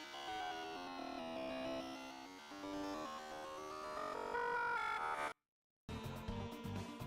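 In the Deltarune video game, a failed cell phone call plays as a dense, droning electronic hum with layered static tones, a short moment of silence, and then a harsher buzzy burst resumes.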